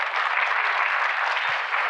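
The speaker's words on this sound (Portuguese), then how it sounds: "Uma salva de palmas, por gentileza." Applause from a seated audience at a geoscience conference round table, a steady, even rush of many hands clapping together throughout the short moment.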